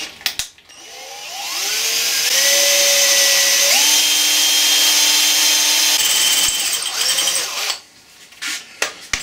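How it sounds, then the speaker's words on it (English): A hand drill bores into a Boxford lathe apron part during a rebuild, its motor whine climbing in stepped pitch and holding steady for several seconds before stopping, loud and close. "it's best to do it with a hand drill"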